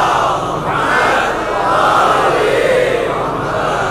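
A congregation at a Shia majlis recites salawat together, a broad continuous wash of many voices chanting in unison, steady and loud throughout.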